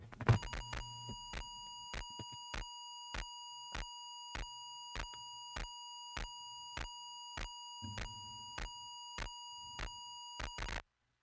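Ms. Pac-Man on an Atari 8-bit computer gives off a steady series of short, loud electronic beeps in an even rhythm, about two each second, ending abruptly with silence and no talking.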